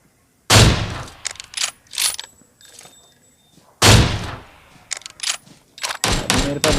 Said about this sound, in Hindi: फिर एक बोट की फायरिंग आती है।